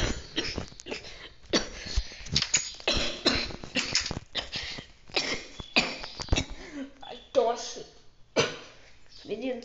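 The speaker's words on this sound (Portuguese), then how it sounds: "Menino, você pegou tosse?" Several harsh coughs and throat-clearing bursts close by, mixed with voices talking and some background clatter.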